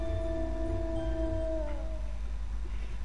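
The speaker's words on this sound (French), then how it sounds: "ce n'est pas des chiens qui sont autour de nous en train d'aboyer, non, non, c'est dans le jeu, les loups qu'on entend" Wolves howl in the Saint Seiya video game, set in Asgard: long, rising and falling tonal howls that overlap and fade after about two seconds over a steady low background hum, with no talking.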